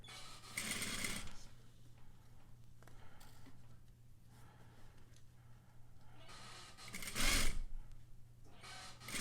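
A sewing machine stitches a curved fabric flap in quiet, uneven runs of rapid needle chatter. Brief louder bursts stand out against a low background hum.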